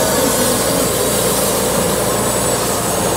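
A portable sawmill at a forestry show, driven by a 55-horsepower engine mounted on the mill head, cuts through wood. It makes a loud, steady roar of engine and blade that stays constant and close, with no voices.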